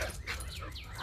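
A dog barks nearby outdoors during an evening walk, a few short sharp yelps over steady low background noise.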